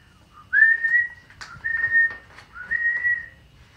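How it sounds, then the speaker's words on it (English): Someone whistles three sustained notes in a row, clear and close, with short pauses between them and no talking. "I hear a zookeeper whistling in my ear."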